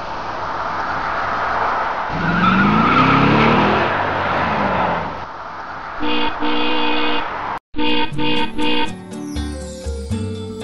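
A car is driven with a steady engine and tire roar for several seconds, then bright repeated tonal bursts and a melodic music cue take over toward the end.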